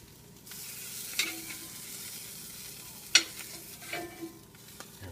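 Bread topped with tuna frying in a pan over moderate heat, a soft steady sizzle with a few sharp utensil clicks and scrapes, and no talk.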